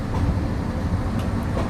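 The Mohanagar Express pulls out of Kamalapur railway station in Dhaka on a rainy night, bound for Chittagong, giving a steady, close, low rumble of carriages and wheels with no break.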